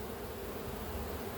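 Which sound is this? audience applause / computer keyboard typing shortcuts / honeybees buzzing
honeybees buzzing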